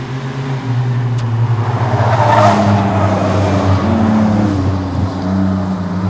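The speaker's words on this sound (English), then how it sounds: "Evan Horvath leading the field through the first and second turn down the back straightaway." Super short track race cars circle a small oval, a loud continuous engine roar that swells as the field passes close through the turns and down the back straightaway.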